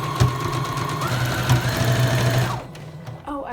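A sewing machine runs steadily, sewing a zigzag stitch on stretchy fabric. Its whirring motor holds close and loud for a few seconds, then cuts off as a voice speaks.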